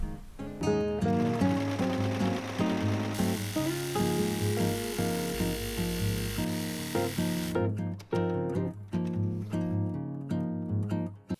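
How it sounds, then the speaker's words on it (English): A sewing machine stitches a seam on thin jumpsuit fabric, its motor whirring continuously for about eleven seconds. The pitch shifts in steps as the stitching speed changes, and no one talks. "let's sew our first seam"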